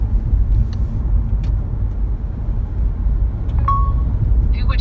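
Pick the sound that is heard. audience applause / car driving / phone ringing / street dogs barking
car driving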